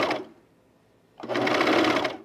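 A sewing machine stitches through thick layers of fabric in two bursts, a brief one and then a longer run of about a second, each a loud rapid mechanical whir, separated by near quiet.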